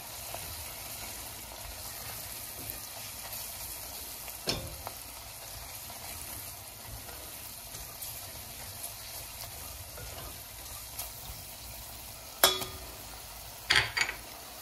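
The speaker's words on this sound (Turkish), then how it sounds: "Şimdi unumu ilave ediyorum. Biraz da unla kavuracağım." Onions and peppers with flour frying in a pan, a faint steady sizzle with a few sharp utensil clinks and scrapes.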